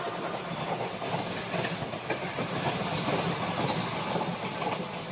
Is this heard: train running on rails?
yes